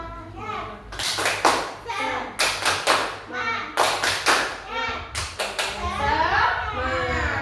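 A group of children performs a rhythmic spirit clap (tepuk semangat), with bursts of sharp hand claps in patterned sequences between spoken lines and chanted counts.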